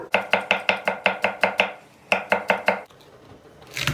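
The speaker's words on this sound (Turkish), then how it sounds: "Onları da ince doğrayacağız" Peppers being finely chopped with a knife on a board, a quick run of about ten sharp, evenly spaced chops, a brief pause, then four more, close and clear with no talk.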